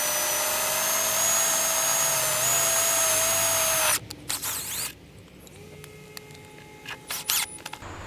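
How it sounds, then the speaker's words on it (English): A power drill whines steadily at close range for about four seconds while driving a screw into a wooden raised garden bed, then cuts off, followed by a few short bursts and clicks as it backs out. "we're just going to drill the very tip top of that in there, back it out"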